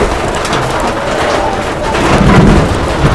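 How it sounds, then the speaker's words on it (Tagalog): Heavy rain pours steadily with low rumbling thunder swelling toward the end, loud and close, with no voices. "Umuulan na."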